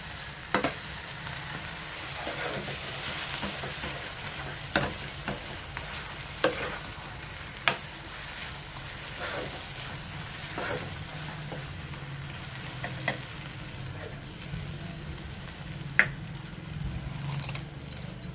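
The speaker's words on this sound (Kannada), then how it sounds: "ಇದು ಎಣ್ಣೆ ಬಿಟ್ಕೋಬೇಕು, ಅಷ್ಟು ತನಕ ಹುರ್ಕೊಳ್ಳೋಣ ಚೆನ್ನಾಗಿ" Grated raw mango pickle frying in oil is stirred steadily in a pan, with a continuous soft sizzle and scattered clinks of the spoon against the pan's sides.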